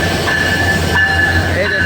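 The Chitra Express intercity train on the Khulna–Dhaka route pulls into Ishwardi junction with a loud, steady rumble and a faint high wheel squeal, close up with no talking.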